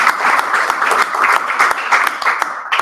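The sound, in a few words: meeting audience applause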